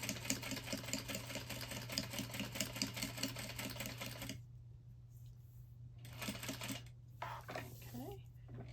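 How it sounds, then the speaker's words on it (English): A sewing machine stitches across the bottom of a bag pocket, a steady close rapid clatter for about four seconds, then stops; a short second burst follows, with a brief voice after. "now I'm going to sew across the bottom to make the bottom of the pocket"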